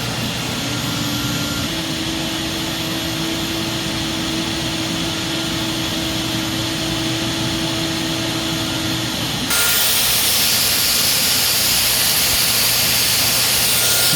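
A Dyson DC22 Motorhead vacuum cleaner running steadily with its vent mostly open, a loud, close, constant whooshing whine that jumps to a brighter, harsher roar near the end.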